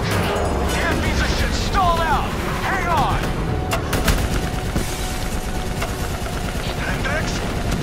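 Sustained gunfire and battle noise fill a Call of Duty: Black Ops III match, a dense loud rumble with sharp shots and whistling tones, while voices talk over it.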